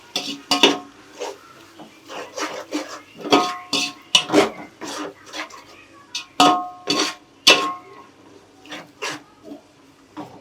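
Ladle or spoon scraping and clinking against a chicken biryani pot while ingredients are mixed, a close series of sharp metallic knocks and scrapes at an uneven rhythm throughout.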